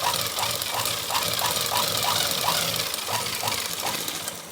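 A sewing machine double-stitches fabric for semi-patiala pants, its rapid mechanical chatter running continuously and fairly loud with a regular rhythmic pulse throughout.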